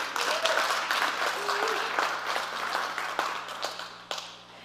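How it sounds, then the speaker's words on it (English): An audience applauds the sponsors and filming crew at a TEDx event held at Folsom High School, a steady wash of clapping that carries throughout and fades slightly at the end. "Can I get a big round of applause for them?"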